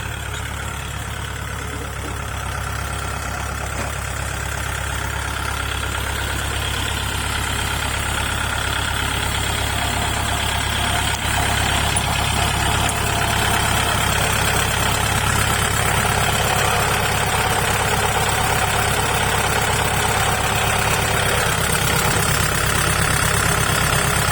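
A tractor's diesel engine idles steadily close by, a continuous low rumble with a faint knocking pulse throughout and no talking.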